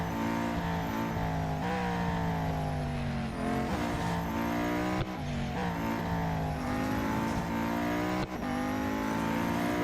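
A race car engine in Real Racing 3 drones at high revs, continuous and loud, with the pitch sweeping up and down as gears shift and the car corners.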